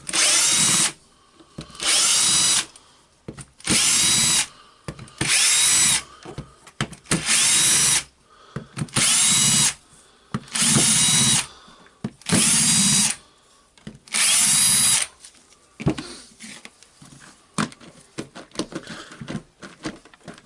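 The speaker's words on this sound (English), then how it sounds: "Now we need to unscrew the screws here for the housing." Housing screws are removed from a Milwaukee HD18HIW 1/2-inch impact wrench during repair. About nine loud, whirring power-driver bursts of roughly a second each are separated by pauses, then quieter clicks and handling noises follow.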